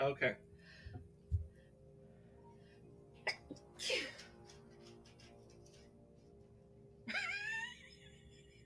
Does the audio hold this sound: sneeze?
yes